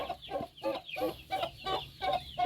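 Clucking poultry, a turkey hen with her small chicks, in a repeated series of short rhythmic calls about every half second, close and fairly loud, with no talk.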